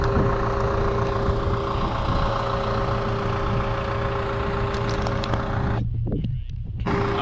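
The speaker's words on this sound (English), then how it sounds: "we're going to kill the engines with the mixtures. And they rumble to a stop." Beechcraft Baron twin engines at mixture cutoff give a loud, steady low rumble with a tonal hum that runs on, then briefly drops and sags near the end as they wind down to a stop.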